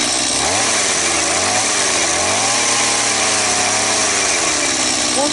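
A small gas engine of a motorized ice auger roars loudly and steadily up close, its pitch shifting slightly as it revs, with no talking; the auger spins the wrong way and fails to drill.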